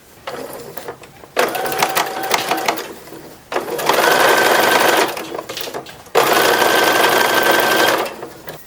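A sewing machine stitches white ribbon binding onto the sleeve edge of a 1910s-1920s style infant wrapper, running in close, steady whirring bursts with brief stops between them.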